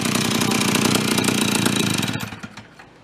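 A junked snow cycle engine runs rough and loud through a leaky exhaust, a dense, steady rattling roar that holds for about two seconds, then cuts out and fades to a faint sputter.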